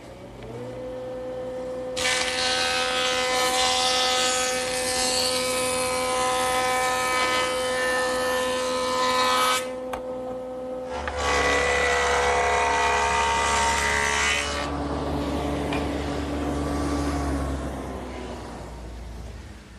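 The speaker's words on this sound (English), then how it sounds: "Now I'll just joint both edges nice and smooth." A jointer smooths the edges of wooden coffee-table boards, its motor droning steadily while two loud passes of cutting roar nearby, separated by a brief dip.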